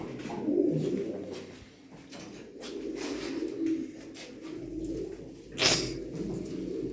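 An original Mardin pigeon coos in soft repeated phrases close by, with light rustling and a sharp click near the end.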